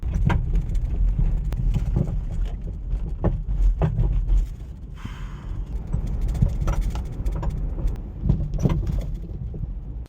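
Front strut mount noise from a 2011 Kia Sorento while driving: irregular knocks and clunks recurring over a continuous road rumble inside the car, with no talking.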